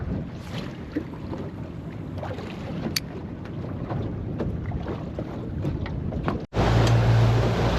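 Wind blowing across a small boat at sea while out squid fishing, a constant rushing roar buffeting the microphone, loud and close throughout with a brief dropout near the end.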